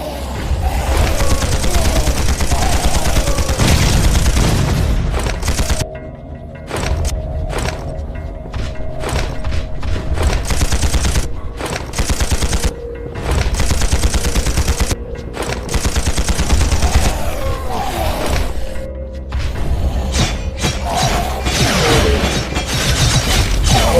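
Sustained gunfire from the sci-fi video game Implosion, rapid bursts of shots with mechanical clanks and thuds, loud and near throughout, broken by brief pauses.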